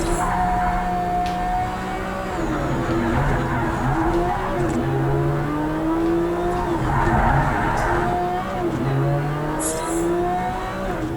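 A racing car engine in the video game Project Cars 3 drones and whines steadily, its pitch rising and falling through gear shifts, with tire squeal and rumbling road noise underneath.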